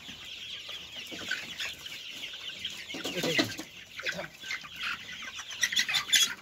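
Sonali chickens on a poultry farm cluck continuously close by, a busy overlapping chorus with a few louder squawks rising near the middle and end.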